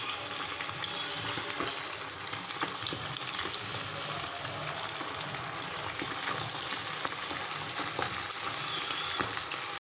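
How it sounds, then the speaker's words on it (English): Chicken lollipops deep frying in hot oil, a dense, continuous crackling sizzle held close and steady throughout with no voices. "Deep fry it."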